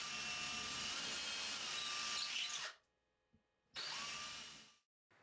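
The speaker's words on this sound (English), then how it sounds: "I'll take a drill with a 1/4-inch drill bit and drill holes in the center of my marks." A power drill with a 1/4-inch bit whines steadily as it bores through drywall, cuts out abruptly, then runs again for about a second before stopping.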